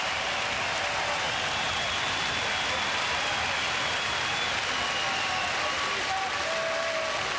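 Boxing arena crowd roaring throughout a 2009 Arthur Abraham vs. Jermain Taylor fight, a loud, continuous wash of cheering and clapping that never lets up.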